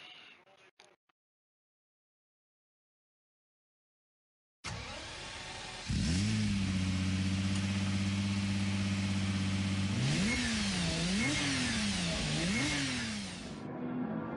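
A Lamborghini Diablo with a manual gearbox in Gran Turismo Sport sits silent, then its engine starts and idles, climbs to a loud held rev and blips sharply up and down several times.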